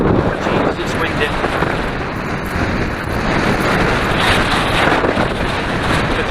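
Strong wind roars and buffets the microphone atop Winter Hill during a bike ride past Rivington Pike, a steady loud rush filling the whole clip with no break.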